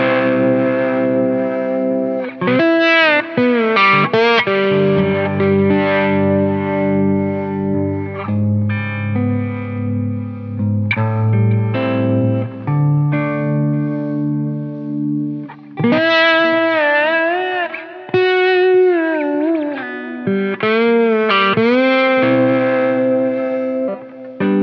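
Gretsch guitar with Filtertron pickups played with a slide through a chain of five pedals set to a fairly clean tone, with sustained gliding notes and chords, shimmering modulation and echo, loud and continuous without speech.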